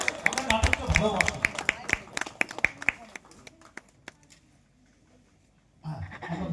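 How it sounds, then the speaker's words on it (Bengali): A theatre audience gives a burst of sharp, distinct handclaps that thin out and fade to near silence before talk resumes near the end. "একটু জোরে হাততালি হবে"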